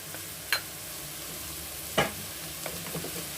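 Ginger garlic paste being stirred into semiya pulao in a pan, with a soft steady sizzle and a couple of distinct scraping stirs of a spoon against the pan, quiet and close.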